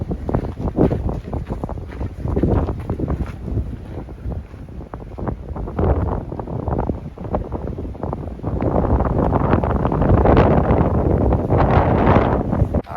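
Gusty wind buffets the microphone on a snowy mountain trail in Angeles National Forest, a loud, continuous rumbling roar that surges and swells without any voices.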